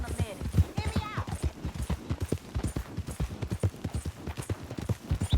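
Horse hooves clip-clop in a steady rhythm in Red Dead Redemption 2, close and moderately loud, with a voice speaking over the hoofbeats.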